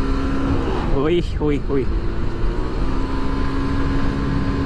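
Honda Beat scooter fitted with 9 gram BRT rollers accelerating, its engine held at a loud, steady drone close by while a man briefly exclaims over it.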